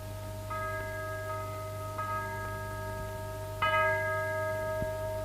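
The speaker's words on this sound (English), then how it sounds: "That chapel bell. Ting-a-ling-a-ling for the wedding." Three soft chapel bell strikes in a radio drama ring out at uneven intervals, each tone lingering and slowly fading over a steady low hum.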